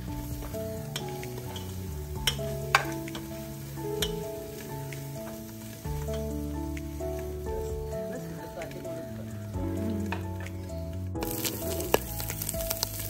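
Garlic sizzles in sunflower oil in a pan with a soft, steady frying crackle, partly masked by louder tonal music playing over it.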